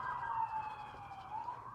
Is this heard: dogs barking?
no